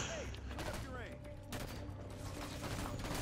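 Halo 5 custom-game gunfire on a remake of the H3 High Ground map, heard as repeated sharp bursts of shots mixed with game sounds and muffled voices, moderately quiet throughout with a louder hit at the very end.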